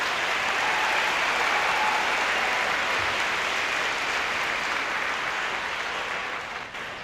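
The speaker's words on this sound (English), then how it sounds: "Let's give them another round of applause." Audience at a middle school promotion ceremony applauds award winners, a dense, steady wash of many hands clapping that holds for several seconds, then thins slightly at the end.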